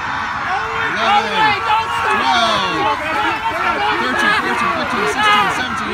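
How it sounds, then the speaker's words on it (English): A large crowd cheers and chatters loudly at a high school boys cross country championship finish line, dense overlapping voices and shouts continuing throughout. "Here comes the crowd."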